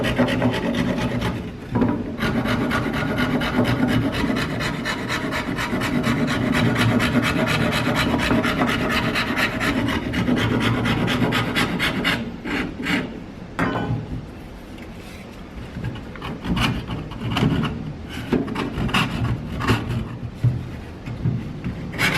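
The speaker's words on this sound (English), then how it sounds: "Using a surf former, you can get a larger, flatter cut." A surform rasp is drawn repeatedly across a wooden shoe last, producing a continuous coarse scraping rasp in rapid, rhythmic strokes, close and loud, with brief pauses between passes.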